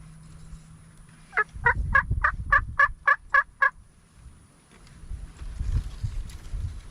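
An Osceola wild turkey gobbles in central Florida pasture land, a single loud rapid burst of about eight sharp pulses at moderate distance, between quieter stretches of rustling and low background noise.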